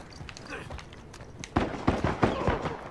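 Game gunfire from a musket in Uncharted: several sharp, loud broadband bangs in quick succession, closely spaced over the last half, over a low background with a voice speaking.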